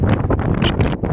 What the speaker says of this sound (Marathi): वारा बघा, वाऱ्याचा आवाज बघा काय आहे तो.